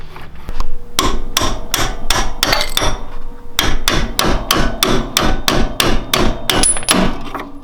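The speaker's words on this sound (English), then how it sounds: "So all we have left to do is knock this pin out." A hammer strikes metal in rapid repeated blows to knock out a pin on EzGo golf cart suspension, close and sharp, with a brief pause before another run of hits.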